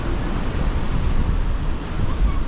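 Big surf pounding a beach during a typhoon in the Philippines, a dense continuous roar of waves mixed with wind buffeting the microphone, loud and close, with no clear breaks.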